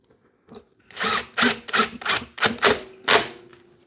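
An impact-type power tool drives a socket on a Toro engine's plastic carburetor in a run of about seven sharp, loud hammering bursts, close up and with no talking.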